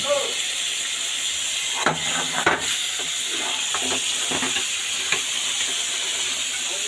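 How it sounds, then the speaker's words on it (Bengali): Poa fish frying in hot oil, a steady close hiss and sizzle running throughout with a few louder pops and spatters, carrying no speech. "এই গরম তেলের মধ্যে একটা একটা করে মাছগুলো আমি ছেড়ে দিব। তারপরে আমি এই মাছগুলোকে উল্টে পাল্টে ভালো করে ভেজে নেব।"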